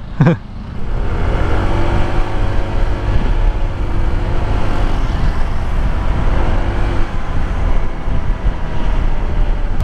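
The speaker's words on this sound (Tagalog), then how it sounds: "Grabe ang traffic ngayon" Steady traffic noise on a congested road near San Antonio Valley 1 on Sukat Road, heard from a Honda ADV 160 scooter: a continuous low engine rumble and hum from surrounding vehicles, with a brief louder burst at the start.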